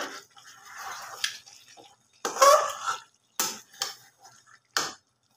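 A pot lid lifted off a pan of meat cooking on the stove: a few sharp metallic clatters and knocks at intervals over a faint background hiss, close by with no voices.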